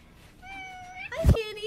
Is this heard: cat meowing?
yes